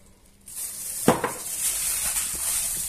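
Pork ribs, cubed potatoes and carrots are mixed with wine and water in a roasting dish. A couple of knocks against the dish are followed by steady wet swishing and stirring nearby, with no talk.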